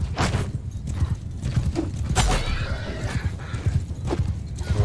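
Horse hooves gallop in Mount and Blade 2 Bannerlord, a close, rapid, continuous drumming of clip-clop beats amid battle clatter.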